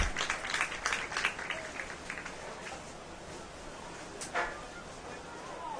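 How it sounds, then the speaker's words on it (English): A crowd applauds at a men's college soccer match, scattered clapping that is strongest at the start, then fades into open stadium ambience with a brief late swell. "Nice applause from the crowd."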